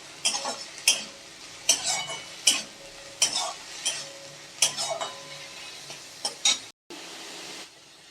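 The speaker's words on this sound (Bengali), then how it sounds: "এই যে মাছটা ভালো করে কড়া করে ভেজে নিচ্ছি" Fish fries crisp in a pan under a hissing sizzle, with regular spatula scrapes and knocks about every half second and a brief gap near the end.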